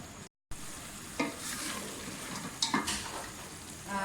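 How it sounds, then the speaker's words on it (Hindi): Tomatoes and spices fry in a pot for mutton rogan josh, giving a close sizzle with a few louder stirring scrapes and bursts after a brief cut of silence near the start, with no talk. "टमाटरों के साथ बाकी मसाले को भूनूँगी"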